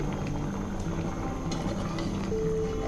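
A pot of winter vegetables with pumpkin stems bubbles steadily as the lid is lifted. The boil is a constant, close, even churn with no pauses.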